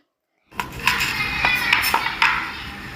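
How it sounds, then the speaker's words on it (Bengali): A knife chopping tomato against a board or metal dish, a few sharp irregular knocks over a low kitchen hiss, close with no voices. "ধুয়ে নিয়ে সেটাকে আমি কুচিয়ে নিচ্ছি"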